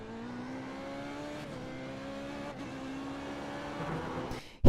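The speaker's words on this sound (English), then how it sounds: "and then I'm getting back on the throttle" An F3.5 open-wheel race car's engine in the iRacing sim, on track at Okayama, holds a steady high drone with gear-shift steps as the driver gets back on throttle, loud and continuous with no talk.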